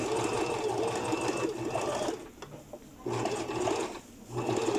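A sewing machine stitching a seam on a skirt with a front box pleat, running in steady fast bursts of rapid needle rattle, pausing briefly twice before starting up again, close and clear.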